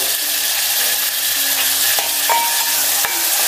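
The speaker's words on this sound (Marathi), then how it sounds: "आता व्यवस्थित टोमॅटो नरम होईस आपण परतून घेऊया हे सर्व।" Onion and tomatoes sauté for pavta bhaji in a steady, loud sizzle, with a few light clinks and scrapes from stirring scattered through it.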